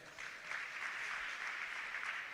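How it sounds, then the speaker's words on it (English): Faint applause from an audience at a campus community safety forum launch at Mopani TVET College, a soft, steady patter of clapping heard from a distance. "Clap hands for that."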